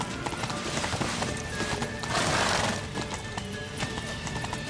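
Horse hooves clip-clop at a steady gallop in The Witcher 3, loud and continuous with an occasional whinny, filling the whole stretch with no talk over it.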